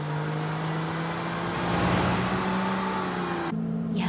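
A standard Porsche sports car driving, its engine droning steadily with a low harmonic hum throughout and a brief shift in tone near the end; no talking.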